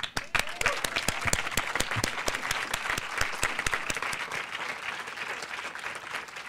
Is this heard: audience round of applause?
yes